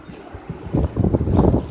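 Strong winter storm wind gusts of up to 40 miles per hour buffet the microphone with a loud, rough rumble that swells and surges over less than two seconds.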